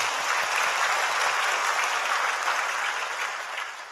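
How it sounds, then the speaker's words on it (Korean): A church congregation gives a sustained round of applause, a dense even clatter of many hands that holds steady for a few seconds and then fades away. "우리 감사하다고 다시 한번 박수하겠습니다"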